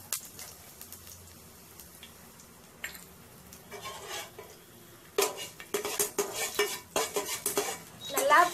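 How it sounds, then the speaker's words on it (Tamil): Garlic and fenugreek seeds stirred and fried in a pan for a coconut-free fish curry: a soft sizzle underneath, then loud, close, rhythmic clanks and scrapes of a spoon against the pan building toward the end. "இதுக்கப்புறம் பூண்டும் போட்டு நல்லா வதக்கி விட்டுக்கோங்க."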